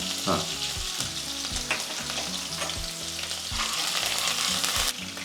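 Chopped green chillies and curry leaves crackle loudly in hot oil, close and dense, with rhythmic stirring knocks from a utensil throughout.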